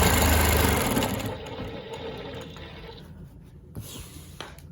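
Longarm quilting machine stitching along rulers, a loud steady mechanical whir that eases off partway and then gives way to quieter motor hum and a few small clicks, with no voices.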